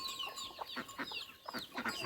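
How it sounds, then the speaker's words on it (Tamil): A hen clucks close by in a series of short, uneven clucks and murmuring calls, with no talk. "இங்கே ஒரு கோழி இருக்குதா"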